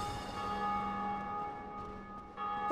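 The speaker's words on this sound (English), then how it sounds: "When another player rings a bell of awakening, all players hear it." The bell of awakening ringing in Dark Souls: a single sustained, metallic church-like peal with rich overtones hangs in the air and slowly fades, fairly quiet and alone.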